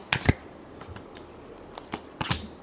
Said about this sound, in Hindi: लास्ट शफल, एक और शफल को।